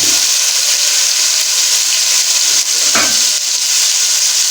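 Potatoes and peas frying in a pan hiss and sizzle steadily and loudly as a splash of water hits the hot oil, with a brief burst of stirring near the end.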